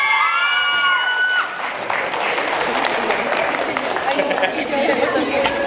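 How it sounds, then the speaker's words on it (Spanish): Guests at a quinceañera applaud the godfather, with a burst of clapping and cheering from the crowd amid chatter and voices. A high melodic tone sounds briefly at the start. "vamos a dar un fuerte aplauso al padrino para que hable."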